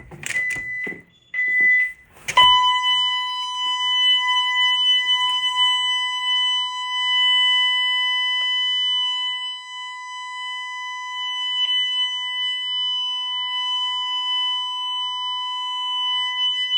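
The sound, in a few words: home security system alarm triggered by opening bedroom window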